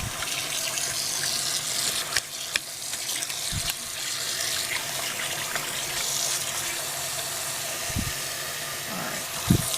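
Steady broadband rush of tap water running from a faucet as wool is rinsed beneath it, a continuous close splashing flow with a few soft low thumps of handling.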